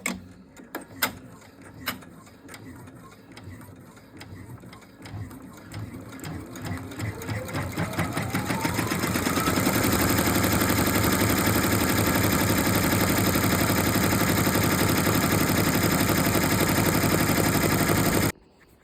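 A home embroidery machine stitches a fabric Easter egg, its needle hammering in a fast, steady rhythm that builds from scattered starts to a loud continuous whir close by, then cuts off abruptly at the end.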